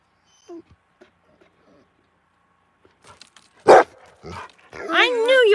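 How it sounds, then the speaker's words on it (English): A pet dog barking at a cat indoors, a few short yips and whimpers then sharper barks, with a person talking over them toward the end. "I knew you were barking at the cat."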